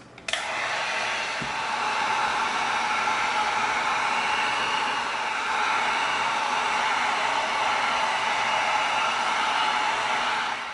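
A heat tool blows steadily over an EVA foam surface to seal it, giving a loud, continuous, even airy roar that holds for about ten seconds with no talking.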